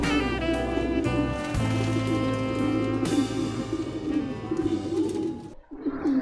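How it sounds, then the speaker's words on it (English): A group of young Harshian Pouter pigeons of mixed colours and ages coo softly and repeatedly, heard under steady background music. "Now you are watching a group of different colors and aged pigeon babies."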